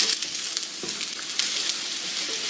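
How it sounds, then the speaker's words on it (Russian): Steady crackling sizzle of mushrooms frying in vegetable oil in a pan, continuous and close, with occasional louder pops. "Обжариваем минуты 2-3."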